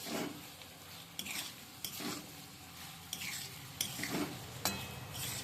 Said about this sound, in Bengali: এবার খুব ভালো করে সবগুলোকে মিশিয়ে নিচ্ছি